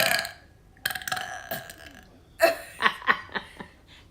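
A ten-year-old boy burps in a run of short, loud belches, a few early bursts followed by a cluster of rapid ones near the end, with light laughter around them.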